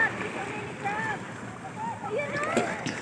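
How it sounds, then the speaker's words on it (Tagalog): Swimmers splashing in outdoor water in the late afternoon, light intermittent sloshes and splashes at moderate distance, with voices calling and talking over it. "O si Johan, panay ang langoy"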